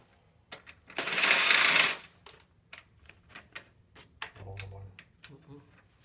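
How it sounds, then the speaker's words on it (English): A power tool whirs for about a second as a bolt is driven through a chaise lounge frame, followed by scattered clicks and taps, with a person talking nearby. "he's just driving the bolt through and getting enough in there to grab onto it"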